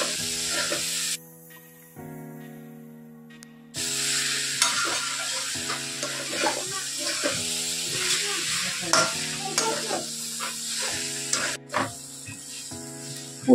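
A potato filling with garam masala fries in a pan, sizzling steadily while a spoon stirs and scrapes through it, close and continuous, with a low background hum and no talking.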